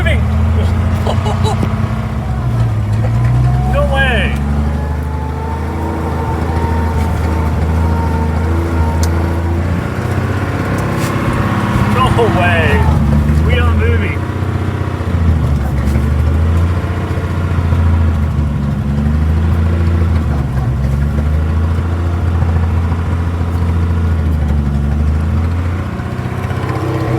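WW2 International KS4 truck engine rumbling steadily as the vehicle rolls, low and loud throughout, with people talking over it and creaks from the moving truck.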